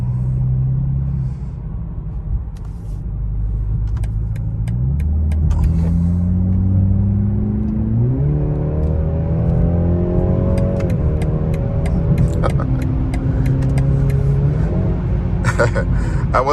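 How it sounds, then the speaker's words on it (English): A BMW 330i (G20) accelerates hard in traffic, its engine rumble climbing through the revs in several stepped surges with gear changes, heard from inside the cabin over steady road noise. "I wasn't even on full throttle because it just gets up so quick and we're around the corner"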